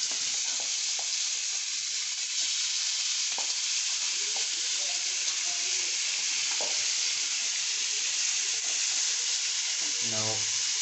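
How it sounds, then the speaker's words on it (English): Steady sizzling of chicken pieces frying in a hot pan, a continuous crackling hiss with occasional faint stirring clicks. "You see it's frying quite well."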